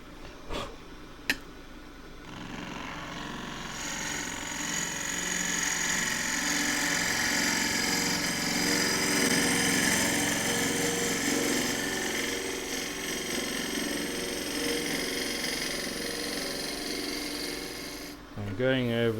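A wood lathe turning a green elm crossgrain tube with a tool braced on the rest gives a steady loud scraping, rasping cut that holds for most of the stretch before stopping, with brief knocks at the start.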